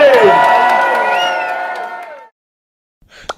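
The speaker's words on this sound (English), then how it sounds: "Give yourselves a fucking round of applause" A large crowd cheers, whoops and applauds loudly, the roar fading away over about two seconds before falling silent, then a brief faint noise.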